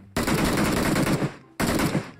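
Gunfire in a video game shooter: two loud bursts of rapid automatic fire, the first over a second long, the second shorter after a brief pause.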